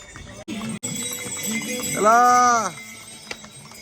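Outdoor chatter at Kedarnath with a few knocks of horse hooves, then a loud, wavering animal call rising over the voices for about half a second.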